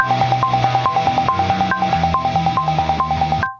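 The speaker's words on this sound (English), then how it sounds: "I've got a metronome on now, and it's really loud." Loud, steady metronome clicks ticking at a quick even pulse over a busy musical backing, with the drum loop removed, stopping abruptly near the end.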